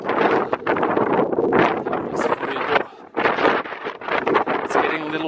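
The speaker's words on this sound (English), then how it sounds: "It's getting a little windy up here." Strong gusts buffet the microphone on the summit of Acatenango volcano in Guatemala, a loud rumbling roar that swells and drops in bursts, with a person talking over it.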